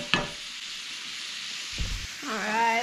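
Kohlrabi sears in a hot pan with a steady, fairly loud sizzle throughout, broken by a brief clatter partway through and a short burst of voice near the end.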